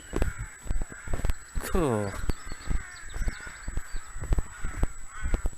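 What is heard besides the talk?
crows cawing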